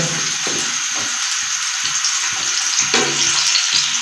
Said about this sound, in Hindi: तो अभी हम इसमें प्याज डाल देते हैं मीडियम साइज़ की। इसको गोल्डन ब्राउन करेंगे।